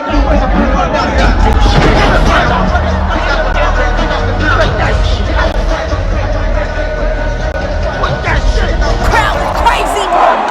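Dense concert crowd roar at a stadium show, steady and loud throughout with overlapping voices, shouts and babble close by.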